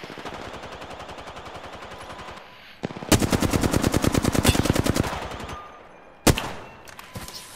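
Automatic weapon fire in the video game Apex Legends: a long run of rapid, evenly spaced shots after a brief lull, followed by one sharp isolated shot, loud and close with a faint background underneath.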